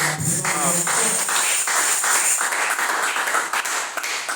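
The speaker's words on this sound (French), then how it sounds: "Est-ce qu'on peut applaudir encore pour la présence de Dieu?" A church congregation applauding during a service, a steady wash of clapping from many hands filling the room, with a voice briefly over the start.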